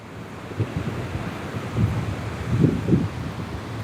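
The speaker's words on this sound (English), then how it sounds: "we got ocean" Ocean waves roll and wash on a stormy, rainy day, heard as steady surf mixed with heavy wind buffeting the microphone and a few louder swells building.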